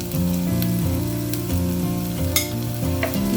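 Finely chopped garlic and ginger fry in a pan with a continuous close sizzle and occasional stirring clicks, while soft background music plays underneath.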